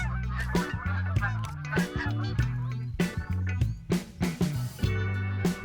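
Geese honk repeatedly at goose blinds in theHunter: Call of the Wild, set in Hirschfelden. The loud, overlapping calls run steadily throughout, with a few brief dips between bursts.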